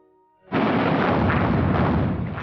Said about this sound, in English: Canberra was hit by a hail of gunfire